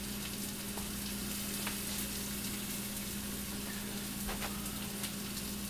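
Food frying in a pan on the stove, cooked without oil, gives a steady close sizzle with a few brief clicks and scrapes over a constant low hum, with no voices.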